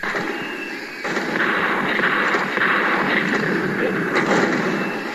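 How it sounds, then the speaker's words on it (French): Rifle gunfire sound effect in an audiobook: a dense, sustained burst of crackling shots and booms, loud and continuous after a brief quieter start, with no narration over it. "Le capitaine s'écrie alors. « Chargez tous vos fusils et tirez !»"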